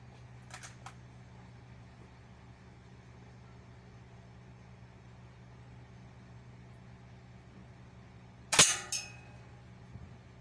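A Kar98 rifle fires a single sharp, loud shot late in the stretch, with a brief echoing tail. Before it comes a faint click and a steady low hum, and no voices are heard.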